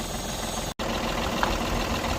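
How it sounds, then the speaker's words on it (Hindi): A Tata Tiago diesel engine idles after a major service, a steady close mechanical clatter with a low rhythmic throb, briefly cut by a split-second dropout. "इंजन को स्टार्ट कर रखा है और गाड़ी को हीट वीट करके चेक कर रहे हैं।"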